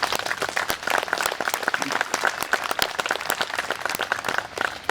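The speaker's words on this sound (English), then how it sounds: "They deserve a round of applause." An audience applauds at an outdoor Memorial Day ceremony, dense and loud clapping from many hands that runs steadily without a break.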